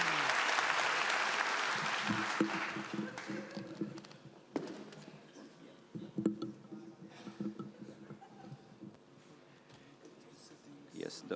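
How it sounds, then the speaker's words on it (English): Conference audience applauding after a lightning talk, a loud dense burst of clapping at the start that thins into scattered claps, with talk coming in over it. "A big round of applause for him."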